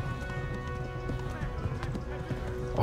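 A horse gallops in the medieval video game Kingdom Come: Deliverance, its hooves pounding in a quick, steady clip-clop rhythm at moderate volume.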